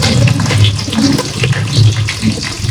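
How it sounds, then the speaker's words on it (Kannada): Green chillies fry in hot oil with cinnamon, cloves and dried fenugreek for chicken biryani, giving a loud, dense, continuous sizzle and crackle close by, with no talk. "ಚೆನ್ನಾಗಿ ಫ್ರೈ ಆಗ್ತಿದೆ."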